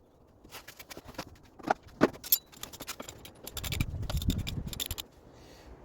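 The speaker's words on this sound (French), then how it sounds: "Je vais graisser un petit peu les écrous aussi." Wheel nuts on a van being greased and handled, with close metallic clinks, scrapes and rattles in short irregular bursts, then a denser scraping rustle toward the end, no talking.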